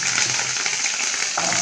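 Curry leaves and fenugreek seeds frying in sesame oil, a bright, dense crackling sizzle that holds steady, close up, with a small stirring clink near the end.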